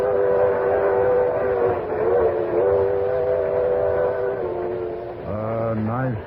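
A Limited Express passenger train bound for New York pulls out, rendered as a radio drama effect: a steady rumbling roll with sustained tonal droning, ending in a bending whistle-like pitch slide.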